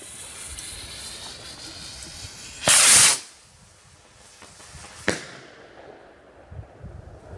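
New Year's Eve fireworks from a Keller Rondo Grande set: a sharp blast of hissing noise, then a quieter lingering crackle and a second short pop, over steady background hiss.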